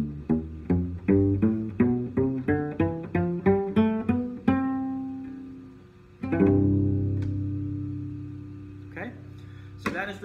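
A cello plucked pizzicato with the finger instead of the bow: a quick run of a dozen or so short, deep plucked notes, then a few longer resonant notes that ring out, close and moderately quiet.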